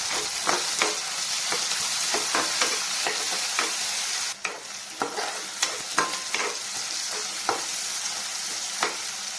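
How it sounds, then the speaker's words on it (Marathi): Onion and tomato sauté in a pan for a dry moong dal dish, a continuous sizzle under regular scraping taps of a spoon stirring them, heard close and without speech. "त्यानंतर इथे टोमॅटो घालून घ्यायचं, चांगलं त्याला परतून घ्यायचं।"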